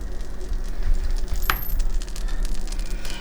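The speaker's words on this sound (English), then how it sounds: "And then I'm just going to put my Spam in the frying pan." Spam frying in butter in a frying pan gives a steady, close sizzle that runs the whole time, with one brief metallic clink partway through.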